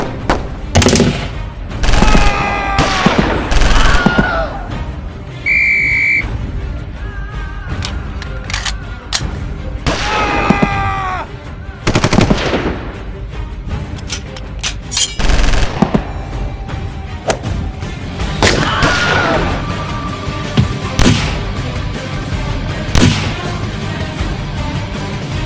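Battle gunfire and machine guns sound in the war video game Bellum Aeternam. Loud crackling bursts and single sharp shots come at an uneven pace over twenty-five seconds, mixed with other clattering effects.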